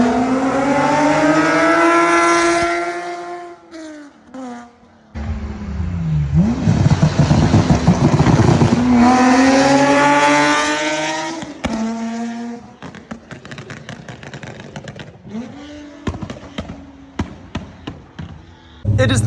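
An Infiniti G37 with a titanium single exhaust driving down a road, revving hard and accelerating in repeated loud pulls, with gear shifts and easing off between bursts.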